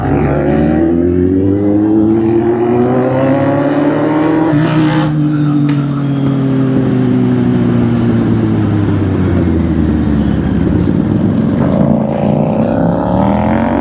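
Several motorcycles, a Kawasaki, a Hyosung and a Bajaj Dominar, race past with loud, continuous engine drone and rising and falling revs throughout, close and sustained with no talk.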